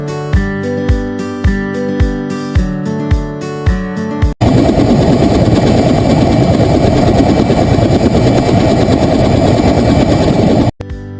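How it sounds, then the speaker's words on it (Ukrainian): A helicopter's rotor chops in rapid, steady thuds, loud and close, after a few separate rhythmic beats, continuing without pause until it stops abruptly. "вертоліт."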